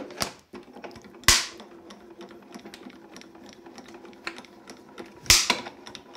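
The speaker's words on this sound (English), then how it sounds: "Hear more of that cracking." Plates with a split die aperture cut by Creative Expressions being run through a die-cutting machine, giving quiet mechanical rolling with two sharp, loud cracks, one early and one near the end.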